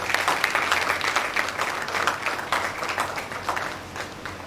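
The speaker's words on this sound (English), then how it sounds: "Let's give them another big round of applause" Audience applause for the presenters at a Faculty of Dentistry college event, a dense, even roar of many hands clapping that stays strong for several seconds and then thins slightly toward the end.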